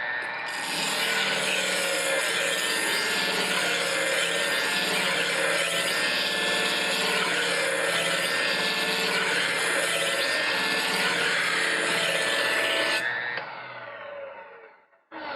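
A knife blade is ground on a powered sharpening wheel at a steep bevel angle, giving a loud, continuous abrasive whir and rasp that runs unbroken for about thirteen seconds before winding down.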